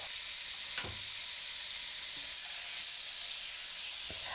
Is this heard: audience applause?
no